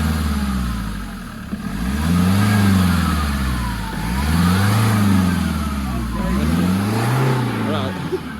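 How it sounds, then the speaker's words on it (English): A 17-year-old diesel Land Rover 110 engine idles and revs in slow, repeated swells, a steady low drone rising and falling close by, with voices talking faintly underneath. "Doesn't sound that bad, really, for a diesel."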